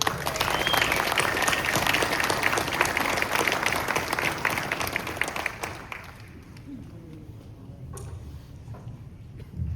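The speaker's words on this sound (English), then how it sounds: "Let's give a round of applause to our MCs for the evening." A civic candidate forum audience claps for the evening's MCs, a steady, dense wash of applause that holds for several seconds, then thins out to scattered claps and room noise.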